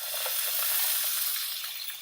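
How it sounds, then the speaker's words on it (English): Peppers sizzle and crackle in hot oil in a skillet, a steady bright frying hiss heard up close with no talking. "You're going to add the peppers."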